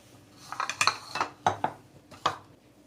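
A mixing bowl is taken out and handled in a kitchen, giving a few scattered clinks and knocks of dishware, close and fairly quiet, with no talking.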